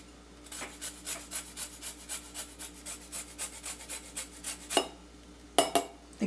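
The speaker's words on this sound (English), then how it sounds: "what you can do on top of this is just do a little zest" A lime is zested over a raw vegan key lime dessert with ice cream, a grater rasping in a steady string of short strokes, close and moderately loud, ending with a few clinks of the tool.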